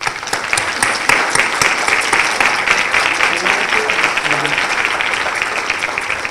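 A conference audience gives loud, sustained applause welcoming Dr. Mabel Burín, dense clapping filling the room throughout with some voices mixed in.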